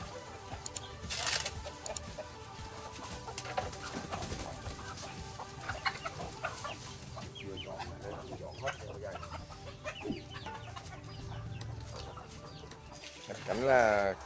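Chickens clucking around a village farmyard in rural Vietnam, with scattered calls over steady outdoor ambience and a brief louder burst near the end.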